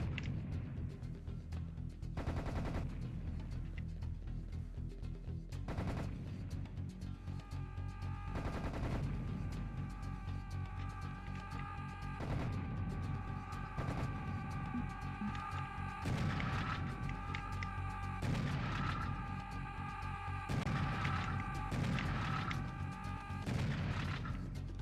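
Video game gunfire from Serious Sam, dense and continuous with rapid bursts, heavy booms and explosions layered over game music and effects, loud and relentless with brief louder volleys and no talking.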